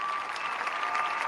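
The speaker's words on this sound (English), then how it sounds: "Look at that. We've got applause." A short burst of studio applause played from a soundboard, a steady wash of clapping lasting just over a second with no break.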